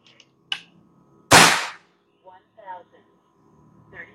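A single sharp air rifle shot from a Black Ant or RTXX rifle cracks out loudly near the middle, preceded by a small click and followed by faint mechanical handling noises.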